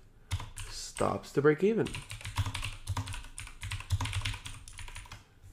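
Computer keyboard typing in quick bursts of clicks and clacks runs throughout, fairly close and moderately loud, with someone speaking over part of it.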